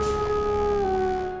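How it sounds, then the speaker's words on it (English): One long wolf howl rises and sustains as a clear, loud tone close up, slowly bending in pitch and fading at the end, with no voices present. "and howling at the moon."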